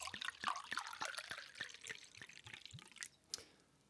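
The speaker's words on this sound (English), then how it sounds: "So I'm going to pour this up, give you a little ASMR" Sauvignon Blanc wine pours into a glass close up, a bright trickling splash with quick dripping pulses that taper off toward the end, alone without talk.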